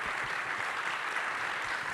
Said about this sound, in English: Please give a huge round of applause for Hirokazu Kosaka, Hollis Goodall, Carlos Rosario.